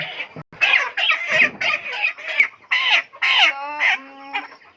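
A large chicken weighing around three and a half to four kilograms clucks and squawks in loud, close, choppy bursts, ending in a long rising cackle, with brief pauses between calls.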